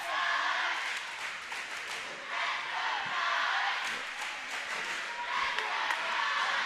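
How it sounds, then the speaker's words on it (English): A crowd in a high school junior varsity boys' basketball gym cheers and shouts in the closing seconds of a tied game, a loud continuous roar with swells and scattered claps. "Crowd getting into it."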